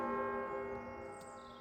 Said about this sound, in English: A loud chime echoes from overhead.